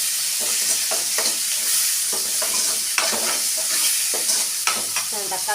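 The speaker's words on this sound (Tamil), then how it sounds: "தக்காளி வதங்கட்டும்." Tomatoes sauté and sizzle in a pan for a Tamil sardine fish curry, a constant bright frying hiss punctuated by regular scraping stirs of a spoon, close and loud with no voices.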